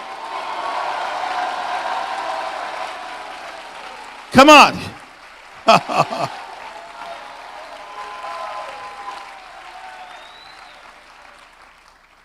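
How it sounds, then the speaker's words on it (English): A church congregation claps and shouts during a preacher's revival service, a steady crowd roar with two sharp loud bursts midway; someone speaks briefly over it. "Clap your hands and shout"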